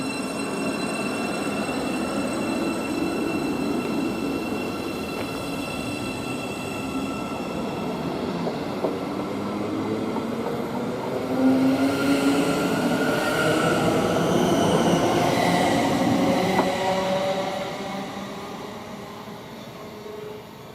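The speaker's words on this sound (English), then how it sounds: "Okay, and now leaving, we've got the 717." A Class 717 train departing Potters Bar station on the East Coast Main Line, a loud continuous rumble with rising electric motor whine and wheel squeal, building midway then easing off, no voices.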